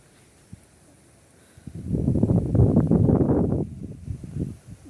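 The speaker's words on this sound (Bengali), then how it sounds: "বাতাস হচ্ছে" Wind gusts in for a couple of seconds with a broad, rushing buffet near the microphone during light rain, then eases back to a quiet background.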